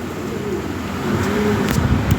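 A red Danish pigeon coos softly a few times over a steady background hum.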